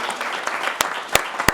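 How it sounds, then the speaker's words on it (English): A live audience claps for a speaker being introduced at a leadership event, a steady patter of hands through the whole stretch with a few sharper claps standing out near the end. "let's give a big round of applause to Grace."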